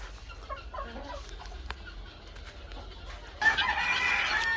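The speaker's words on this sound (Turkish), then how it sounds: "Bir tavuğumuz var arkadaşlar." Soft chicken clucks and murmurs inside a farm coop near the start, followed by a louder burst of noisy rustling toward the end.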